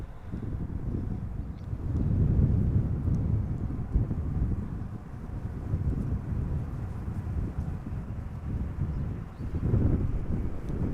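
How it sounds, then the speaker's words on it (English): A United Boeing 787-9 Dreamliner, arriving from San Francisco, lands in gusty crosswind at Amsterdam Schiphol, a steady low roar of jet engines swelling and easing over about eleven seconds, mixed with wind buffeting the microphone. "this is a United Dreamliner 7879 arriving from San Francisco"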